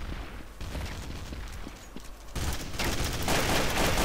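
Gunfire in Counter-Strike: Source, rapid bursts of shots crackling and overlapping into a loud, sustained fusillade that swells toward the end, close and dense with no clear gaps.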